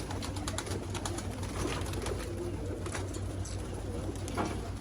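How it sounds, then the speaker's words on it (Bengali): A flock of racing pigeons waiting for their evening feed keeps up a low, murmuring coo throughout, with occasional chirps and faint rustling nearby. "শেষবেলায় কবুতরগুলো অপেক্ষা করতেছে খাবারের জন্য"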